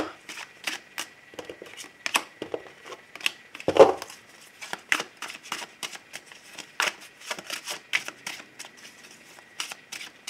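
Tarot cards being shuffled and cut, a long run of soft, crisp card flicks and riffles in an irregular rhythm, close and fairly quiet, with one heavier tap partway through.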